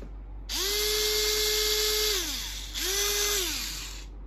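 A small electric drill with a 1 mm bit clamped in its chuck runs up to a steady high whine, winds down, then spins up again in a shorter second burst, close and clear.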